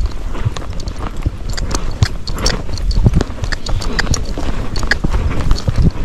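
Hooves of an Icelandic horse in a smooth, even gait on a trail, a steady rapid clip-clop of close, loud footfalls continuing throughout with faint wind around.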